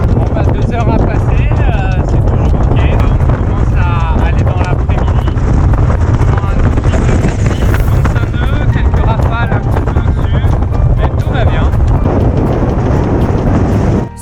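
Loud, constant wind from a cyclone gust roars across the microphone with a deep rumble aboard a sailboat in the Antilles, and voices and creaking sounds can be heard faintly through the buffeting.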